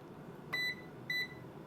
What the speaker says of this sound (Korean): 온도 도달하니까 삐삐 합니다